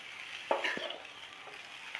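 Cauliflower florets frying in a pan for a spiced Indian gobhi sabzi, a steady soft sizzle with a couple of brief scraping clinks near the middle, close and moderately loud, no voices.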